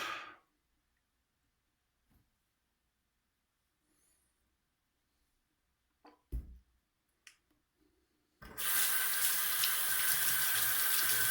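Water gushes steadily from a bathroom tap into a sink for rinsing a face after shaving, loud and close, preceded by a few faint knocks and splashes in a quiet room.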